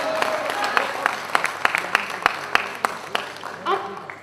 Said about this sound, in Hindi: अब मैं ये तालियां भी नहीं चाहती